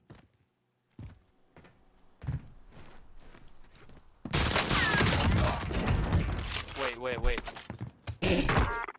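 Automatic gunfire in the video game Warzone: scattered thuds and footsteps at first, then a sudden loud, dense burst of rapid shots that continues with short breaks, with voices heard alongside.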